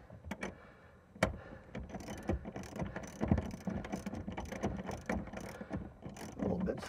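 Ratchet tightening the seat bolts during a leather seat install in a 2021 Toyota Tacoma, giving repeated quick clicking strokes at close range with one sharp clack near the start and no talk.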